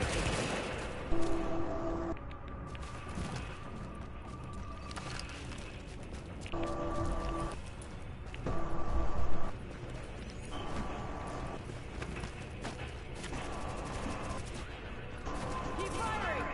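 Gunfire in an Assassin's Creed battle, with bursts of rapid shots and a heavy rumble, plus hoofbeats and clattering in a busy mix, and voices shouting over the action.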